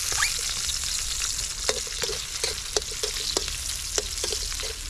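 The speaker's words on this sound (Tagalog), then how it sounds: "Gigisa muna natin yung isda natin." Silver carp sautés in a pan, a bright, constant hissing sizzle with occasional light clacks of a spatula stirring, steady and fairly close.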